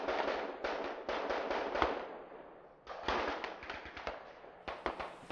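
Battle explosions and gunfire in the distance come as rapid bursts of sharp cracks and thuds in two clusters separated by a short lull, fairly faint and with no voices.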